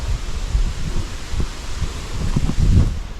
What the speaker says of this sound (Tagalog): So yan, lumalakas na naman yung hangin.